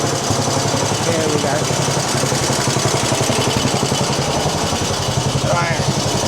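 The 6hp JAP engine of a 1950 Clifford A3 walk-behind rotary cultivator runs loud and close with a steady chugging pulse, while someone speaks briefly over the noise.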